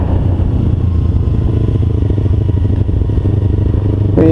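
A 2012 Kawasaki Ninja 250 motorcycle rumbles steadily at low RPM, a loud, close, even engine drone with a rapid pulsing beat throughout, no voices.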